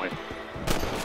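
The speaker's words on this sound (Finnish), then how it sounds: "Heti ensimmäinen kerta kun mä ammun tässä pelissä, niin mä en osunut vielä yhteen." Rifle gunshot in the video game Red Dead Redemption, a sharp broadband crack near the end of a short stretch with game ambience and some voice underneath.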